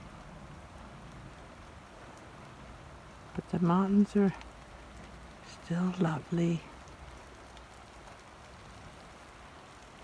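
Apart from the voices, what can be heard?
drizzly morning rain in Glacier National Park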